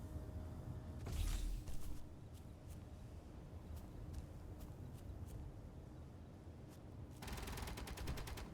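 Automated turret fire in the video game Space Engineers, heard faintly and at a distance as short bursts of rapid clicking shots, one early and a longer burst near the end, separated by scattered single cracks over a low hum.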